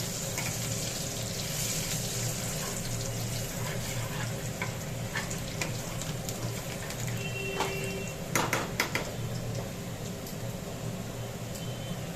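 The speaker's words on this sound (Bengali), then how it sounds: "এদিকে কড়াইতে পেঁয়াজ ভাজতে দিয়ে দিয়েছি" Onions fry in a kadai, an Indian wok, with a continuous dense sizzle at steady loudness, close by, and a brief clatter of stirring near the end; nobody talks.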